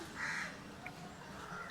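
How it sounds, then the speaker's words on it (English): Crows caw loudly over steady background hiss in the beach town of Trincomalee, Sri Lanka, with one main cawing burst and a faint short call after it. "There's so many crows in Trincomalee."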